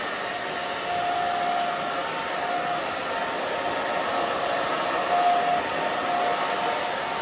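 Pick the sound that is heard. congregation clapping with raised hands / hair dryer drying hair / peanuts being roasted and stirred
hair dryer drying hair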